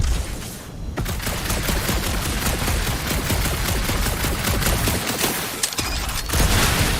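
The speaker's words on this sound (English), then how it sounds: "that aimless shooting isn't gonna scare the monsters away" Aimless gunfire in Guardians of the Galaxy gameplay, a steady, dense stream of rapid shots that runs nearly the whole time, with a short pause near the start and another near the end.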